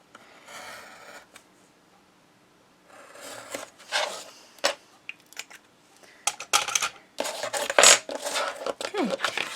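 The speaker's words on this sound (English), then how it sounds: "now I round my edges off" Paper corners are rounded with a Crocodile corner chomper punch, giving a run of close, sharp clicks and crunches that grow busier and louder after a quiet start.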